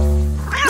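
A cartoon cat lets out a single loud, close meow that rises and bends over a steady low hum, lasting under a second.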